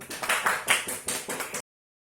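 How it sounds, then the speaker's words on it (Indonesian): A classroom of students claps together in a brief burst of applause, loud and close, with several rhythmic swells before it cuts off abruptly; no talk over it. "Tepuk tangan."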